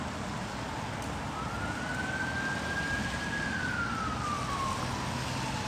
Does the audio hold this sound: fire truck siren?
yes